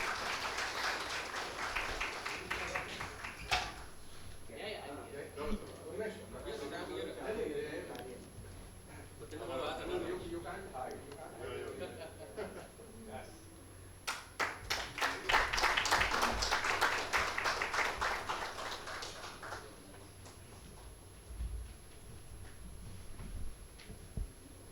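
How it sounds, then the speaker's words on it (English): Applause from an audience following a lamp lighting ceremony at an intellectual property summit, scattered clapping that swells into a denser burst in the second half, with a speaker's voice heard over parts of it. "Please give them a big round of applause."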